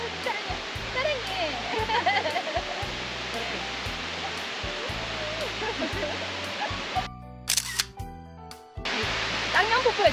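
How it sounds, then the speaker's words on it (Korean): A waterfall on the mountain trail to Bongjeongam roars as a steady broadband rush, heard under background music and a voice, and it briefly drops out partway through. "폭포에 도착했고요"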